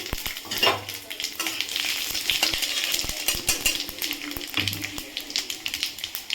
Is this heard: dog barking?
no